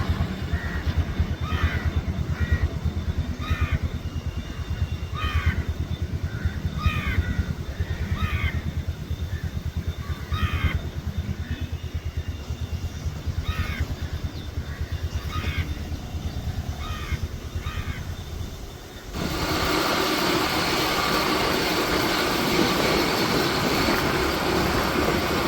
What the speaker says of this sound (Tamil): பார்த்தீங்கன்னா இதுதான் ரயில்வே ஸ்டேஷன்